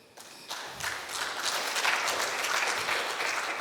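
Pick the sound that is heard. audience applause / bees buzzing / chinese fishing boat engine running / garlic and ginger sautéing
audience applause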